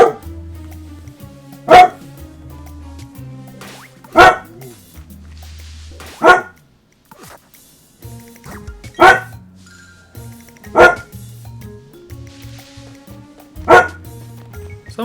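A pet dog barks in single loud, close woofs spaced about two seconds apart, seven in all, over quiet electronic video game music.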